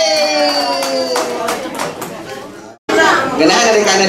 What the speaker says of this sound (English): clap for us, guys!